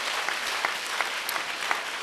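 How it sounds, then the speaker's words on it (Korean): A church congregation at a Korean Sunday worship service applauds with a continuous wash of clapping, moderately loud and even, with a few sharper individual claps standing out over two seconds. "박수로 주님께 영광 돌립니다"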